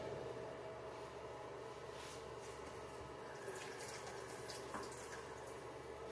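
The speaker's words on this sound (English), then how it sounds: "The next thing I need to do is wash a couple of tomatoes" Tap water running into a sink while a couple of tomatoes are rinsed, a faint, continuous splashing hiss at low level throughout.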